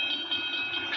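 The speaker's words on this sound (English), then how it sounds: "The train was coming closer. I could hear its bell ringing and the cry of its whistle." An approaching train in a 1941 radio drama sound effect, with a rhythmic repeating high ringing tone over a low rumble of rail noise, steady and fairly close.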